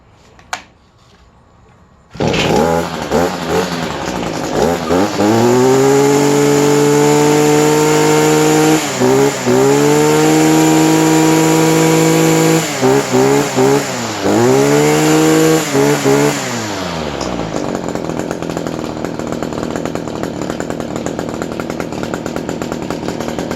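An Echo string trimmer's two-stroke engine starts after a single pull, then runs loud and close with a high buzzing whine, revving up and down several times before the motor winds down and cuts off.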